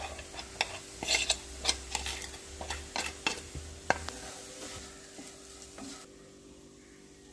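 Moringa leaves are stir-fried with chili powder and coconut, with a faint sizzle under a series of quick tapping and scraping strokes from a spoon against the pan. The strokes fade out toward the end.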